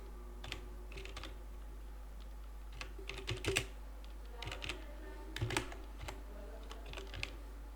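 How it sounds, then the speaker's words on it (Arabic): Keys clatter on a computer keyboard while a word is typed in Microsoft Word, a faint, close run of irregular clicks in small bursts over a low steady hum. "هنبدأ نكتب مثلا"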